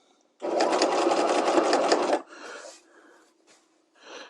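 A sewing machine stitches a piped seam in one fast, loud, rattling burst of nearly two seconds, then drops to a quieter slow hum with a few brief pulses as it eases off.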